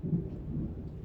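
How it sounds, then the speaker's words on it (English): Distant thunder rumbles low and soft during a storm, a brief deep rolling murmur with no speech over it. "You heard that? That's the thunder."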